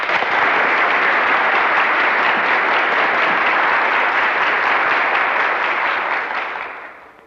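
Loud, dense applause from a large hall audience greeting student leader Julio Antonio Mella at a university federation gathering, sustained and even before tapering off at the end.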